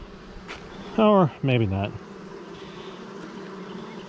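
Honey bees buzzing around hive frames while a swarm is moved into a ten-frame hive, a low continuous drone throughout with someone briefly speaking over it.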